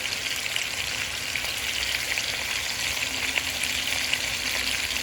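Bacon and beef fry in a pan as their fat renders, giving a dense, even crackling sizzle that holds steady and close throughout with no pauses.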